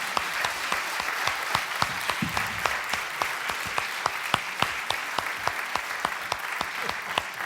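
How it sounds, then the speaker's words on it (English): A small business-breakfast audience applauds the expert panel with steady, fairly quiet clapping, individual claps distinct and evenly spaced throughout. "I'd like you to join me in giving a hearty round of applause to our great panel."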